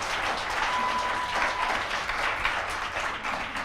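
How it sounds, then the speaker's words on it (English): A room full of people claps steadily in a round of applause on a university campus, moderately loud and even throughout. "Please give a round of applause"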